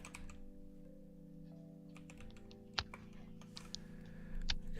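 Clicky keystrokes tap out at an uneven pace on a computer keyboard while a book title and author are entered, faint and close, over a steady low electrical hum with no talking.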